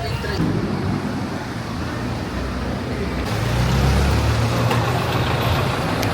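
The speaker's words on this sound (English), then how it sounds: "So those buses there, they're known as Shiva buses, and they're the main way that people get round in local areas of Colombia." Chiva buses and other street traffic in Medellín, Colombia, produce a steady broadband roar of engines and road noise that swells as heavier vehicles pass close by.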